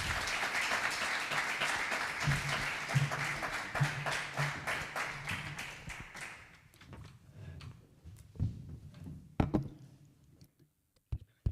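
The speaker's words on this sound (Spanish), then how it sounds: "un fuerte aplauso" Audience applause at a lecture event on Castelao, steady dense clapping for about six seconds that fades out, leaving scattered isolated claps and faint room noise.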